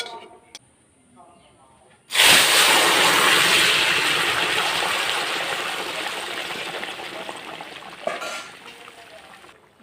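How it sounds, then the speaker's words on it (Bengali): Vegetable curry for dhokar dalna is poured into a hot pan of fried cumin, setting off a sudden loud sizzle that fades slowly over several seconds after a quiet start. "এবার আমি তরকারিটা ঢেলে দেবো।"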